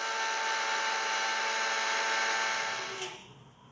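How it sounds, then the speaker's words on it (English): A blender runs loud and steady, grinding chopped homemade garden parsley into a fine seasoning powder, then winds down near the end. "Let's go ahead and drop this stuff into the blender,"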